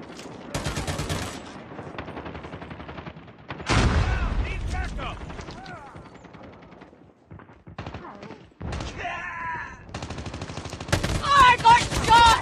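Light machine gun fire in Call of Duty comes in rapid, loud, repeated bursts with short pauses between them, mixed with game effects and voice callouts.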